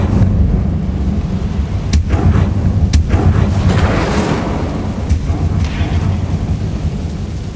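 Incendio fire spell cast in the video game Hogwarts Legacy, heard as loud, rumbling fiery blasts with several sharp bursts over a dense, steady roar, with no talking.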